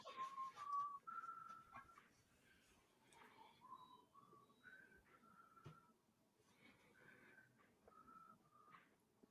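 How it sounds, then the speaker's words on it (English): Faint melodic whistling of a song tune in a quiet room: a string of short, wavering notes with small pauses between them, soft and slightly distant. "A faint whistle in the background there."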